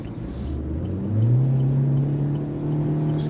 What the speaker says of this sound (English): You can hear the motor kind of winding up a little bit.